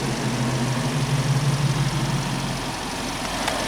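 A 2020 Ford Explorer's 2.3-liter inline four-cylinder EcoBoost engine idles steadily up close, a low, even rumble with a faint mechanical hum.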